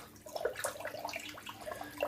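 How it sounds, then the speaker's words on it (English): Muhle R41 razor blade swished in water, brief splashing and sloshing with light drips, quiet and close, no voices. "I'll just heat the blade up in the water."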